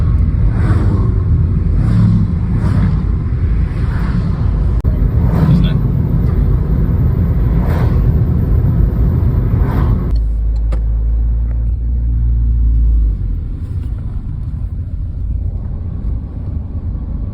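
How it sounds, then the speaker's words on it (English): A car driving along a country road past a farm shop, a loud steady rumble of engine and road noise with wind buffeting throughout, and voices heard over it. "we're just driving back, gone past the farm shop"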